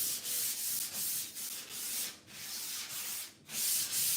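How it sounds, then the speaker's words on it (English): Steady rhythmic scratchy rubbing of a fine-grit sanding sponge on painted wood, repeated back-and-forth strokes at close range with brief pauses. "I'm going to take a sanding sponge. It is a fine grit, and I'm going to sand this whole piece"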